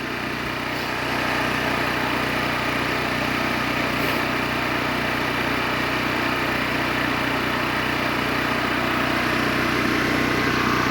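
A Harbor Freight small engine running steadily after a single pull start, a loud, constant buzzing drone close by with no change in pace throughout.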